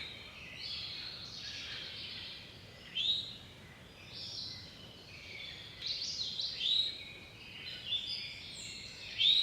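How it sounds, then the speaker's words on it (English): Many birds sing and chirp outdoors at a three-way crossroads, overlapping bright calls rising and falling at moderate distance over a quiet background, with no one talking. "Can you guys hear all the birds?"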